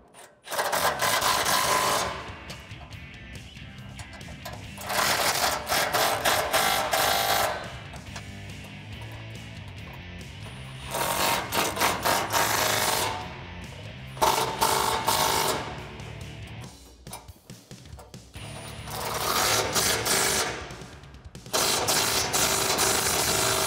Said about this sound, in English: snug all the hardware down with a 16 millimeter socket and a 16 millimeter wrench